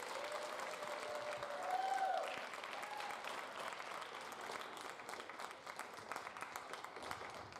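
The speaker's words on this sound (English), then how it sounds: "if we can give the entire 8th grade a big round of applause" An audience at a school event applauding the 8th grade, sustained dense clapping from a crowd that swells briefly and then holds steady, heard at moderate distance.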